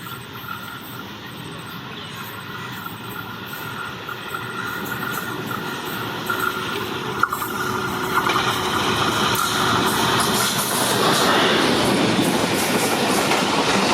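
Passenger train 101 Up, led by a GU20 locomotive, arrives at Mankiala railway station. Its rumble and clickety-clack swell steadily over about fourteen seconds as it draws near and grows loud, with no voices.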